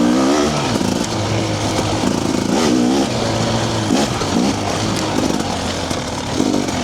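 A fuel-injected TBI motorcycle fitted with a TSP ERM pulls hard through the gears, its engine droning loudly and steadily with rising and falling pitch as it shifts, close up.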